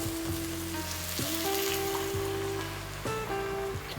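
Collard greens sizzle loudly in a pot as water is poured in, a continuous crackling fry and hiss with steady bubbling and spattering throughout, no voices.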